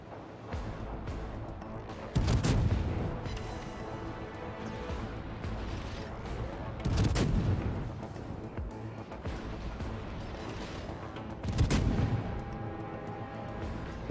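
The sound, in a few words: gunfire in a video game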